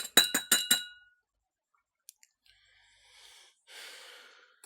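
Copper sulfate crystals clink into a glass beaker in a quick burst of four sharp, ringing taps, followed by faint rustling and soft scraping of a spatula.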